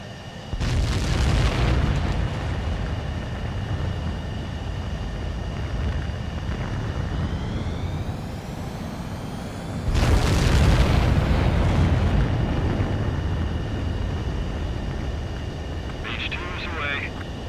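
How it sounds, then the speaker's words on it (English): Fighter jet catapult launch from an aircraft carrier in Ace Combat 7, with VF-103 Jolly Rogers carrier operations: a loud, sustained jet roar with a sharp swell of thrust near the start and a second surge midway, a rising engine whine between them. "You're cleared for launch."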